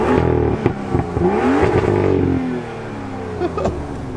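BMW M2 engine in Sport Plus mode blipping and revving loudly up close, with crackly rises and drops in pitch, then settling to a rumbling idle with a few more brief blips.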